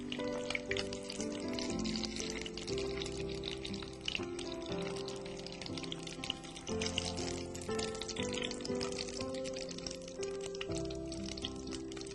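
Food frying in a pan of hot oil during home cooking, a steady dense sizzle with crackling pops that runs through the whole stretch at close range, with no talk over it.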